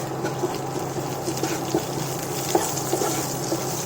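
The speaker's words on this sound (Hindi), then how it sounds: "हम अच्छी तरह से भून लेंगे" Boiled potatoes with chopped green chillies sizzle and fry in a pan with a soft steady crackle and occasional stirring taps, close by.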